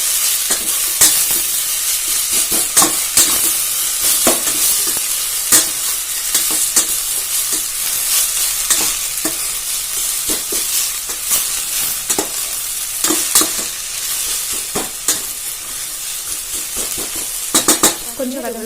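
Mint mixture sautéing in a pan for pudina rice: a continuous loud sizzle with frequent spoon scrapes and clinks against the metal as it is stirred, close and busy throughout, no talking.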